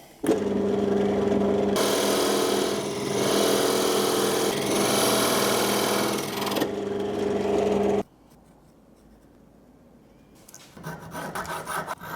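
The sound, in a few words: power drill shaping a wooden chess rook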